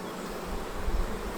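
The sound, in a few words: honeybees buzzing at hive inspection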